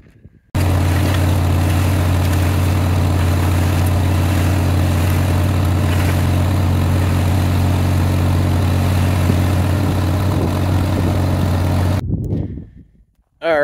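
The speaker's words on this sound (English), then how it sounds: "Now I just use the tractor to sift the dirt in there." A tractor engine runs steadily and loudly while dirt is sifted into earthbags, a continuous low idling drone that holds for about twelve seconds and then cuts off.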